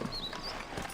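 Horse hooves clip-clop in Red Dead Redemption, a few soft distinct footfalls over a quiet backdrop, with no voices.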